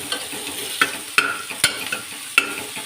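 Chopped ivy gourd frying in hot oil with tempering spices in a pan, a soft steady sizzle broken by sharp scrapes of a spatula stirring every second or so, close by and with no talk.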